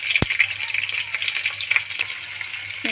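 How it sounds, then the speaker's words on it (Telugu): Green chillies and onions fry in a pan with a bright, crackling sizzle, a steady close hiss dotted with small pops and one sharp click near the start. "కొద్దిగా వేగాలి ఫ్రెండ్స్."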